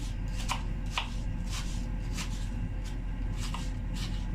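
A large onion being roughly chopped on a board in a home kitchen, with regular knife strikes about every half second over a steady background hum.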